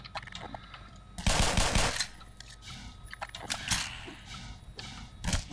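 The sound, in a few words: gunfire in the video game Black Mesa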